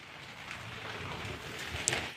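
Steady rain falls outdoors on a city evening in Singapore before New Year celebrations, a faint, even hiss with no voices.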